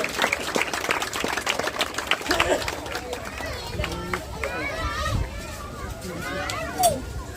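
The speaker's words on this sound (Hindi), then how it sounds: "जोरदार तालियों से इनका स्वागत कीजिए।" Audience clapping welcomes a children's devotional music performance at Dayalbagh, Agra: a dense burst of hand claps, then crowd noise and voices talking over the fading applause.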